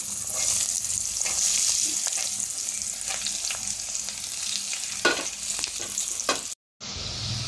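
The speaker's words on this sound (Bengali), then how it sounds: "কেটে রাখা পেঁয়াজটা দিচ্ছি।" Chopped onion with cumin, bay leaf and dried chili sizzles steadily in hot oil, stirred now and then with scraping clicks, before a brief cut to near silence at the end.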